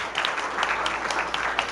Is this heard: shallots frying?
no